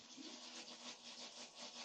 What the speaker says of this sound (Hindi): ये कोई ड्रिलिंग विलिंग चल रही है ऊपर छत पे